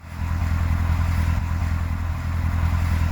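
A Corvette stuck in snow runs its engine hard, a loud steady low roar with the rear wheels spinning, continuous and close, no voices.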